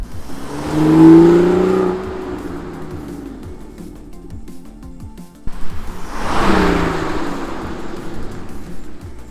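A BMW drives past the camera twice, each pass a loud engine whoosh that swells and fades, the first with a rising rev, separated by a quieter stretch.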